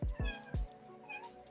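A house cat meows several times in quick succession, close and fairly loud, a few short rising calls followed by softer ones, with no talking.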